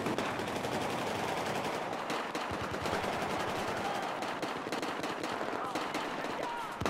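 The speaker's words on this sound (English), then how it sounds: "So much gunfire." Rapid bursts of automatic gunfire crackle continuously, dense and sustained, with a few brief gaps between volleys, in Battlefield 4 multiplayer.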